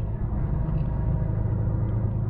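Truck rolling along a road at night on a summer evening, a steady low engine and road rumble holding even and close throughout with no voices.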